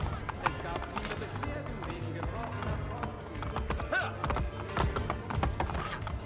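A horse gallops in the video game Assassin's Creed Brotherhood, with rapid, continuous hoofbeats and an occasional whinny under someone talking over the gameplay.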